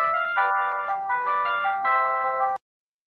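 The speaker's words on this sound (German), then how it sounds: "klingelt das Telefon" A telephone rings in repeated electronic warbling bursts, loud and close, then cuts off abruptly into silence.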